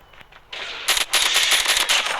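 Gunfire in the Call of Duty video game, a loud close burst of rapid automatic shots following a few quieter single shots, sharp crackling reports with no talk.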